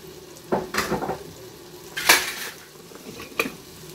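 White and red onions go into a hot pan with a few clattering knocks of utensil on cookware and a brief rising sizzle, close and moderately loud, with no talk over it.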